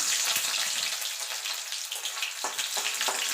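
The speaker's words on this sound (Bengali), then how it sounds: "তেলটা গরম হয়ে গেছে, রসুনটা দিয়ে দেবো।" Loud, crackling sizzle of garlic frying in hot mustard oil, steady throughout with bursts of spattering.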